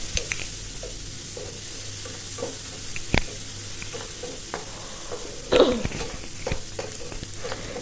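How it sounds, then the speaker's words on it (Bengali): Chopped onions frying in a pan for a cabbage fry, a steady sizzle with occasional stirring scrapes and clacks, close and continuous. "তো এই যে দেখুন, পেঁয়াজ কুচি দিয়ে দিলাম আমি।"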